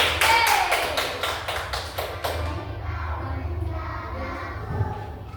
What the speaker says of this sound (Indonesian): Beri aplaus untuk temannya.